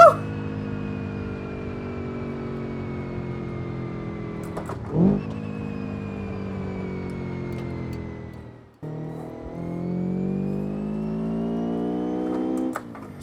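A JDM Spec-C Hirochi Sunburst in BeamNG revs through the gears, its engine note climbing steadily, then dropping sharply at each shift before rising again, close and clear with no talking.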